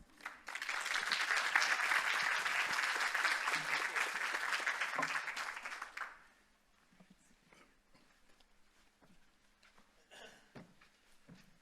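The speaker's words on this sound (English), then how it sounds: "Please join me in welcoming Bob and Daryl." An audience at an evening talk applauds as speakers are welcomed on stage. Dense, loud clapping lasts about six seconds, then stops abruptly and leaves quiet room noise with a few faint shuffles.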